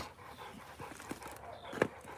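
A dog pants softly at close range in short, quick breaths, with a faint whimper-like sound near the end. It is fairly quiet and there is no talking.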